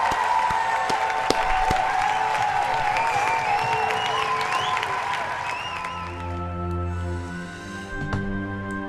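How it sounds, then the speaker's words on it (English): A round of applause from a crowd, mixed with whistle-like calls, runs steadily for about six seconds and then gives way to a softer, sustained tonal hum. "Let me give you a round of applause for that one"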